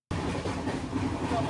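The 12331 Himgiri Express, running from Howrah to Jammu Tawi at night, heard from inside the carriage as a steady, close rumble of wheels on rails.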